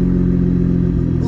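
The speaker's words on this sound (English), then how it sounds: "Rev it." A 2016 Cadillac ATS-V engine rumbles loud and close with a deep, steady throb, its pitch edging up as it revs near the end while someone speaks briefly.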